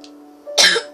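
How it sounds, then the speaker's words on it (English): A person with a bad cold gives a single harsh cough, close and loud, over a quiet steady hum from a computer game playing in the background. "I got a really bad cough."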